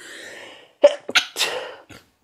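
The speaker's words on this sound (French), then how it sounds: "Ça faisait longtemps que j'avais pas éternué dans le vlog." A single loud, close sneeze, with a sharp intake of breath before it and a burst of explosive exhalation, then quiet.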